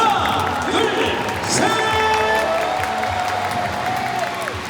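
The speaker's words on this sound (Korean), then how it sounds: "여러분들 마지막 축하의 박수 한번 부탁드리겠습니다." A baseball stadium crowd applauding at a celebration for Asian Games gold medalists before an LG Twins versus Lotte Giants game, a broad steady wash of clapping and cheering, with an announcer's voice echoing over the top.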